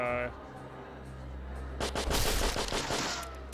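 Gunshots in the video game Deadly Premonition: after a brief musical tone and a quiet stretch, a rapid burst of loud shots cracks out in quick succession.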